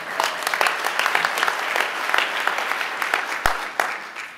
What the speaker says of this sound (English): now let's applaud for Andrew McClellan